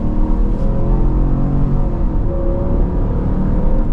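A 2026 Dodge Durango's naturally aspirated engine revs loudly and steadily from inside the cabin under acceleration, a continuous deep drone with no talk.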